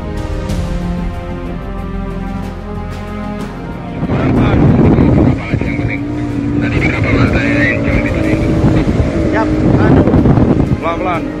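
A navy lifeboat motoring across the sea on a rescue of a man found floating, its engine a loud steady drone that swells midway, with raised voices and shouting over the motor and water.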